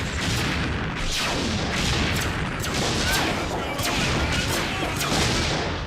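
Heavy weapons fire in an Exosquad cartoon battle: a dense, loud barrage of repeated blasts and booms in quick irregular bursts, continuous throughout with faint voices beneath.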